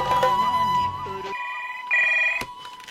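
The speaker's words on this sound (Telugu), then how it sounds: "ఓకే ఒక ఫోన్ చేసుకుంటా." A telephone rings while a call is being placed in a Telugu police film scene, its clear electronic ring tones chiming in short bursts after some busier background sound at the start.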